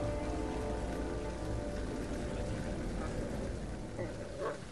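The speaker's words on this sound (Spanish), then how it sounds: "Maldita lluvia." Steady rain in the video game Beyond: Two Souls patters on surfaces as a constant dense hiss throughout, with no break.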